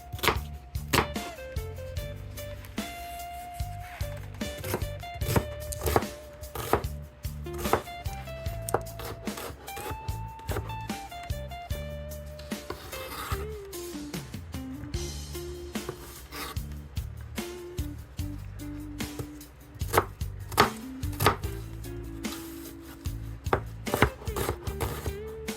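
Knife chopping a small onion on a cutting board while preparing Jamaican stewed chicken and bok choy, a steady run of crisp, close taps and thuds with no talking.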